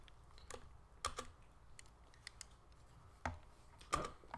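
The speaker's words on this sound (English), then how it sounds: "That was me pressing the keyboard." Computer keyboard keys pressed, scattered sharp clicks and taps at irregular intervals, some louder clusters, close by against quiet background.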